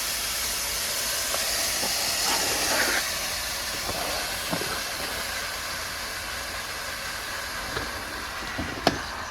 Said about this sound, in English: Let's force the steam towards yourself.